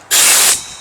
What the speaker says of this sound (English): Starting fluid.